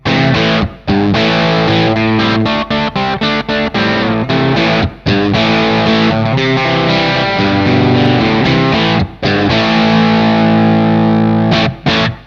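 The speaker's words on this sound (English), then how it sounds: "as soon as you get the gain up to the top here, there's a huge difference in distortion" Heavily overdriven electric guitar chords through a DOD Overdrive Preamp 250-X pedal with gain at maximum ring out loud and saturated, with short breaks between strummed phrases and no voices.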